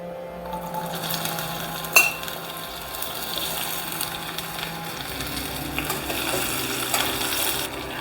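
Okra sizzling in hot oil with cumin seeds in a pan, a steady loud frying hiss with a sharp metallic clink from a utensil early on and light stirring scrapes.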